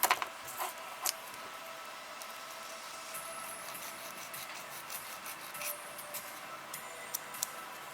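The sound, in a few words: sanding plastic model kit parts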